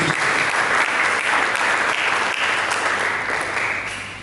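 A church congregation claps in praise during a sermon, a thick continuous wash of applause that holds steady and eases slightly toward the end, heard alone without talk.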